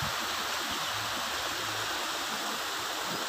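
Rushing water from a waterfall and mountain stream in the Barot valley, Himachal Pradesh, a steady broadband roar that stays constant and close throughout with no voices.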